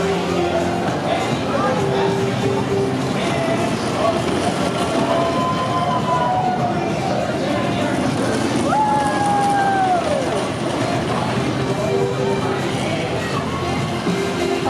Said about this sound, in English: All right, there's a train finally coming through.